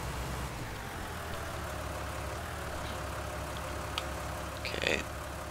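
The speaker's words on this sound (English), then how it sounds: "Just a little chore tractor here." A small chore tractor engine idles steadily close by, a continuous low rumble that runs throughout.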